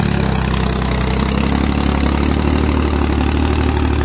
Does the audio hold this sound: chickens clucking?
no